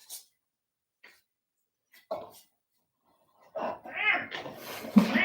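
A house cat meows several times nearby at a yoga session, starting with faint scattered sounds, then a run of louder, drawn-out, wavering cries toward the end.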